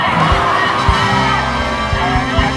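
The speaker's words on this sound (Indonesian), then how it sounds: "Tepuk tangan. Semua tepuk tangan." Studio audience on an Indonesian comedy variety show cheers and shouts loudly, with excited yells and scattered thumps of clapping close and continuous throughout.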